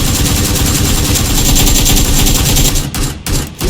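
Dense, loud automatic gunfire in PUBG Lite on the Miramar map, a continuous rattling barrage that breaks into a few choppy bursts at the very end.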